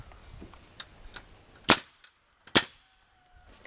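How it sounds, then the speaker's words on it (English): A nail gun fires twice into greenhouse framing, each shot a sharp, loud crack with a short tail, spaced about a second apart over quiet outdoor background with faint earlier ticks. "Actually, Jonathan, let's just shoot a nail through these."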